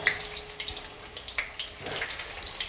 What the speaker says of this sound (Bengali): এবারে আমি তেল গরম হয়ে গেছে, আলুগুলো আস্তে আস্তে ছেড়ে দিচ্ছি।